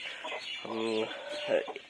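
A hen clucks nearby, a short harmonic cluck burst followed by a brief higher call, over a quiet room background.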